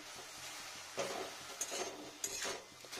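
Radish greens mixed with sugar in a pan, a quiet clatter of a spoon scraping and stirring, with a few sharper clinks against the metal over a faint sizzle.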